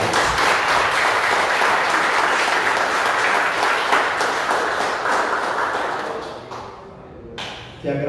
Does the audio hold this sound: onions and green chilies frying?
no